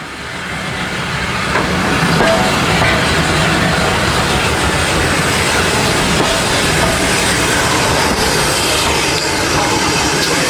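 A steam tank locomotive on the Bluebell Railway rumbles steadily nearby into a station, with a broad, continuous roar and faint hiss, holding loud and even throughout without any talking.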